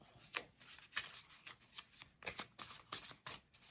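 Tarot cards, a gold deck mixed with a classic deck and a moon deck, shuffled in a quiet room: a steady run of soft riffling bursts, close and faint, with no voice over them.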